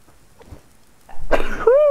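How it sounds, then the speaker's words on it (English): A single sneeze from a person recorded close to the microphone, loud and abrupt, with a sharp burst of breath followed by a tonal voiced release that ends the clip. "I'm about to sneeze."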